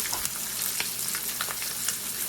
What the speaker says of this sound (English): pearl onion going in on the steak